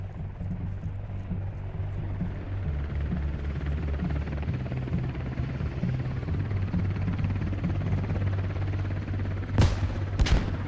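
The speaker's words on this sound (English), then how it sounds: "Did you just hit that helicopter?" Helicopter in the military video game Squad, a steady low rotor thrum running throughout at moderate loudness, with a couple of sharp gunshot-like bangs near the end.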